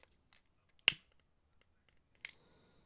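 Scissors snipping off a strand of a beaded triple-strand necklace: one crisp, close snip followed by a second quieter cut, with faint handling clicks around them.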